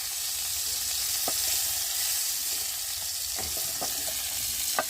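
Tomatoes frying in a pan, a steady close sizzle with a few soft clicks of a utensil, and no voices.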